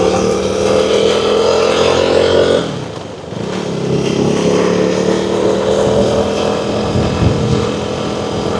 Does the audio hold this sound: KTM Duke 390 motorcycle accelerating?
yes